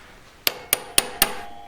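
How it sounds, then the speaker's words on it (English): Four sharp metallic taps of a hammer on a Montana 94 metal cap ring, evenly spaced, each leaving a brief bright ringing tone. "just giving it a tap with a hammer"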